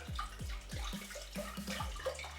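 Spring water pours steadily into a pot for about two liters' worth, a continuous splashing stream with repeated low gulping surges, close and alone with no talk.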